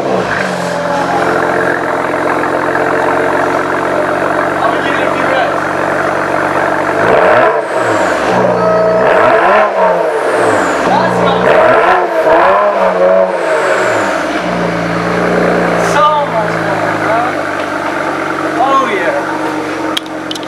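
BMW 335i with a newly fitted custom exhaust and large tips, revving loudly close by: a steady idle rumble, then several sharp throttle blips rising and falling in a rapid series before settling back to idle.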